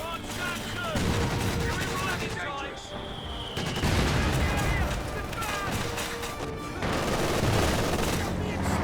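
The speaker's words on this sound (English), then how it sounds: "Though the mortar team's already barraging that building." Mortar barrage and gunfire in a Company of Heroes 2 battle as a mortar team shells a building, dense overlapping bursts and booms running continuously at loud, steady intensity, with voices talking over it.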